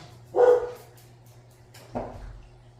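A puppy barking indoors, two short, fairly close barks separated by about a second and a half of quiet room hum.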